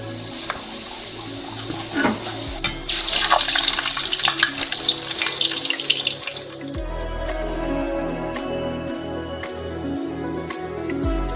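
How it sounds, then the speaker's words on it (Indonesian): Homemade potato chips hit hot oil in a kitchen, building into a dense, steady crackling sizzle that carries on for several seconds, with light clinks and a faint tap-like hiss around it. "Lalu kita goreng."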